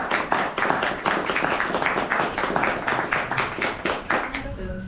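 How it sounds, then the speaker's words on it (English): A small wedding ceremony crowd claps in steady, close applause, with some voices mixed in toward the end. "applause"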